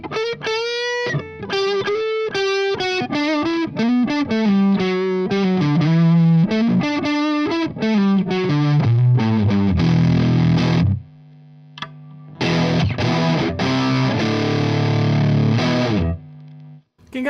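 Electric guitar played through a Boss JB-2 Angry Driver pedal with the drive turned well up, giving a loud, heavily distorted run of chords and single notes, a brief near-silent gap, then more crunchy strummed chords.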